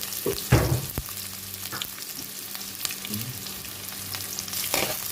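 Onion, garlic, ginger and chili sauté in hot oil for chicken liver and gizzard adobo, a soft continuous sizzle punctuated by a few sharp utensil knocks and scrapes against the pan.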